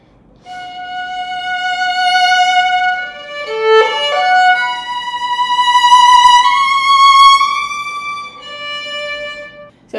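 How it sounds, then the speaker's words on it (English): A violin plays a sustained melodic line with advanced vibrato, the pitch widening and narrowing and speeding up and slowing down, rich bowed tones heard close and alone for the full length. "stage 4 vibrato might sound like this."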